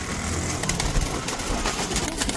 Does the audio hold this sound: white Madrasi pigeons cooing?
yes